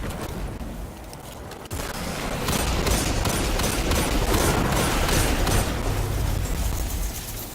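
Rapid hand cannon fire in the Destiny video game, dense bursts of gunshots crackling continuously and loudly, building in intensity after the first couple of seconds, with no voices.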